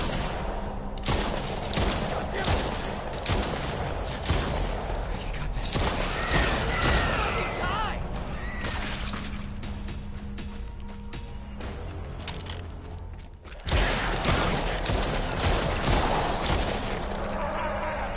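Sustained bursts of gunfire from the Stray Souls video game, dense rapid shots repeating across most of the stretch, loud and close, with a brief lull near the end before firing resumes.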